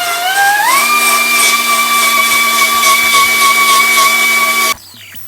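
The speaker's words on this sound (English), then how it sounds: "Got my little 1/2 inch mini belt sander from Eastwood" Eastwood 1/2 inch mini belt sander cleaning rust off a Jeep TJ frame, a steady loud motor whine that rises briefly as it spins up, then holds an even pitch for about four seconds before cutting off abruptly.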